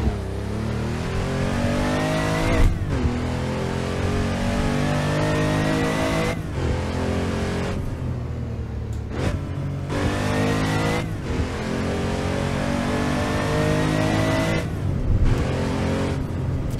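A Porsche 911 993 Turbo in Assetto Corsa revs hard and accelerates through repeated gear changes, its engine note climbing, dropping at each shift, then climbing again, loud and steady with no voices over it.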